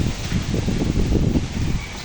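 Steady gusty typhoon wind roaring through the leaves of a mango tree, a dense low rustle and rumble that stays loud and continuous throughout.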